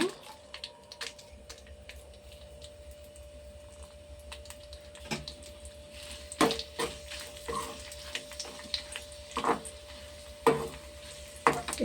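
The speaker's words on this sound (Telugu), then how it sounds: "మిరగాయలు వేస్తున్నాను." Green chillies frying in hot oil give a steady low sizzle with a faint hum underneath, broken by irregular sharp crackles and spatters that grow denser and louder toward the end.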